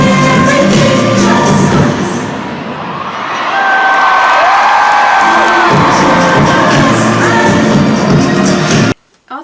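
A packed arena crowd at a concert screams and cheers loudly and continuously, the roar swelling and holding before cutting off abruptly near the end.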